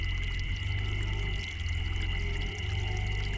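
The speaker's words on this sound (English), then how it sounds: "as I watched, a thin rivulet of water cut through the dirt of the floor" A thin trickle of water seeps across a damp dirt floor in a dark audio-drama scene, a continuous soft pouring and dribbling sound with a low underlying rumble and no pauses.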